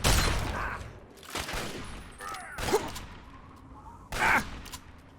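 Gunfire in the Fallout 3 video game: a few loud bursts of shots with booming tails, broken by gaps and brief game effects, with a voice shouting over them.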